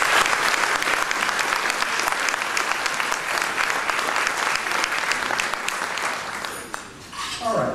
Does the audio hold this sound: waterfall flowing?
no